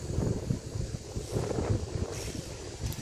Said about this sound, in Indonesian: apakah kalian bisa rasakan anginnya, dengar anginnya?